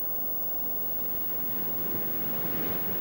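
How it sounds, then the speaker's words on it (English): Ocean waves whipped up by wind, breaking and washing onto the shore as a continuous broadband roar of surf, steady and fairly distant, with wind noise mixed in. "The winds whip the oceans up into waves, and the waves throw immense amounts of energy onto the land"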